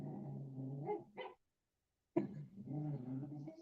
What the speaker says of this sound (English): Buster, our young pup, is growling at his foot because he's using his foot to scratch his ear